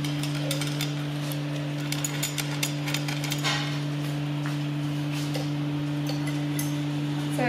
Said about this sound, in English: Put the washer and nut underneath.